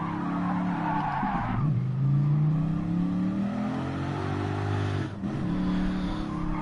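Tires skid and squeal as a car oversteers in Gran Turismo Sport, a steady sliding screech over a loud revving engine whose pitch sweeps up and down across the run, with a brief dip near the end.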